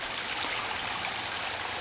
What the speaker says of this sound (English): I put some rocks down there to slow down the water flow a little bit